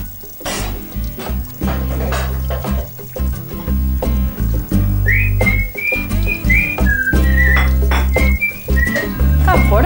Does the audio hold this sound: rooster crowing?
no